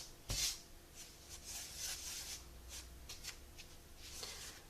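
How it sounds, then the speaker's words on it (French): Semolina and flour being mixed by hand in a bowl for meloui, producing soft, close gritty rubbing and rustling strokes in an uneven rhythm, quiet and without talk. "Commencer par mélanger les deux farines."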